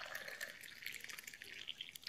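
Hot water poured from a kettle for brewing ground seeds, a continuous thin trickling stream with small splashes and drips, fairly quiet and steady throughout with no talking.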